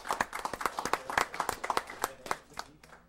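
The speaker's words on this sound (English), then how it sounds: "Let's give her a round of applause." Hand clapping and applause fill a city council meeting room, a dense burst of many close claps from the audience that holds steady for a few seconds, then thins and tapers off toward the end.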